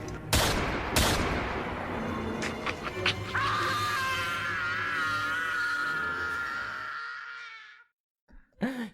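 Gunfire in a scene from the 1992 movie Home Alone 2: Lost in New York: two loud sharp blasts up front, then a sustained noisy din with a rising tonal wail before the sound cuts out abruptly.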